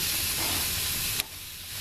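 Pork chops sizzle steadily on a hot grill as they are turned, a broad close hiss that drops abruptly partway through and then swells back up.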